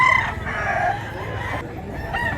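A rooster offered for sale, a two-year-old green-hackled cock, crows loudly and close by in a single drawn-out call, with a faint second call starting near the end.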